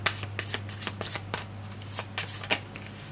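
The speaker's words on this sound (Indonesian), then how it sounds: "Kita ambil kartu tarotnya, teman-teman." Tarot cards being shuffled by hand: a quick, steady run of soft papery flicks and riffles, close and fairly quiet, with no talking.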